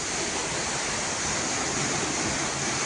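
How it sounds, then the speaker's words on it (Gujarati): Water falling steadily into a well, a dense continuous rushing splash with no break, loud and close throughout. "પાણી પડે લ્યો"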